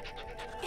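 A cartoon puppy pants in quick, breathy bursts, close and fairly loud, in a short animated sequence.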